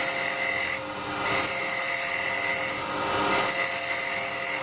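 A carbide tool cuts a small wooden bowl spinning on a lathe, giving a loud, steady close-up scraping whir that eases off twice briefly, with no talking.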